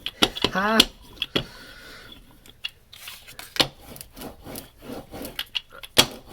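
A rubber stamp is scrubbed on a stamp cleaner pad: a quick burst of rapid rubbing strokes, then scattered brushing and scraping scuffs at close range.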